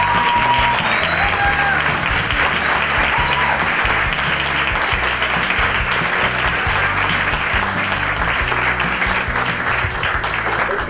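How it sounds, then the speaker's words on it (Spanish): A large audience applauds a speaker being introduced, a dense, continuous roar of clapping that stays loud and even throughout, with a few whoops rising above it. "Un grandísimo, por favor, un grandísimo aplauso"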